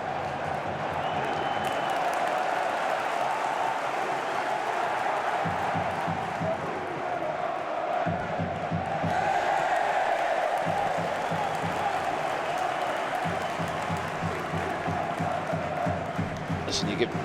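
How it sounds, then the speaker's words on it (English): Football crowd at a Swansea City home match against Sunderland, a steady loud roar of cheering and chanting that swells as the players press high, with commentators talking over it. "You could hear the crowd get behind their team, going high and pressing it."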